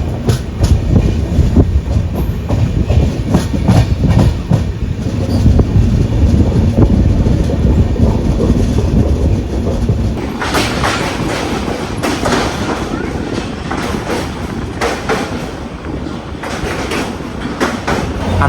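Kerala Sampark Kranti Express, running from Ernakulam to Mangaluru, crosses Aluva bridge slowly under a speed restriction. A steady close rumble with clickety-clack wheel beats runs throughout, turning brighter and more rattling about halfway, with no talk.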